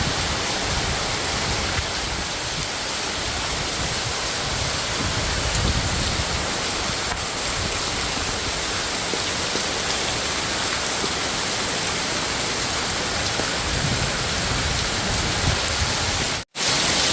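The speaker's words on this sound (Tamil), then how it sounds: "அடுத்த ஒரு 2வது நாளே பார்த்தீங்கன்னா நல்லா காற்றோட மழை வர ஆரம்பிச்சிருச்சு." Wind-driven rain falling over a small home vegetable garden, a dense, steady hiss of drops pattering on surfaces that stays loud and unbroken throughout, with no voices.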